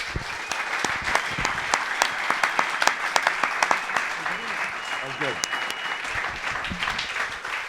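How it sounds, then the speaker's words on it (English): A crowd at a live golf YouTube show, the EAL Show, applauds Eric with steady, sustained clapping throughout, while a voice briefly talks over the applause partway through. "Give Eric a massive round of applause, everyone."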